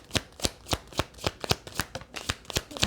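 Oracle cards being shuffled by hand, a steady run of about a dozen crisp riffling snaps at a regular beat, close and clear with no talking.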